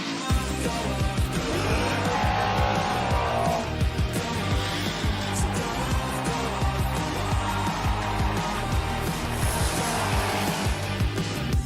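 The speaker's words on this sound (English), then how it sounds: "this is my Mustang RTR Spec 5 FD" A Mustang RTR Spec 5 drift car roars through a Formula Drift run, its engine screaming continuously with loud tire squeal and skidding throughout, close and sustained.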